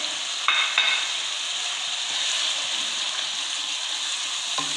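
Coriander, cumin, coarse black pepper and salt roast in a hot pan with a steady, close hiss and sizzle, and a couple of brief stirring clatters near the start.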